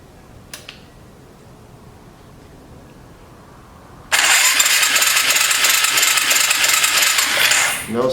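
A Suzuki LTZ250 Quad Sport ATV engine cranks loudly as someone tries to start it, a steady whirring rattle that begins abruptly after a quiet stretch and carries on close and strong for about four seconds without catching.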